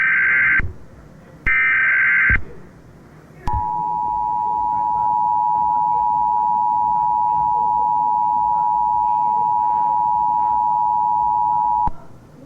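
Emergency Alert System alert: two short, harsh, buzzy data bursts, then a loud, steady, sustained single tone that holds for about eight seconds and cuts off abruptly, with nothing else audible.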